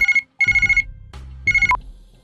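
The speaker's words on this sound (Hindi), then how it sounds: "ये किसका फोन है जी?" Telephone ringing in a TV news studio, loud electronic ring bursts repeating in a pulsed pattern with short gaps, ending abruptly.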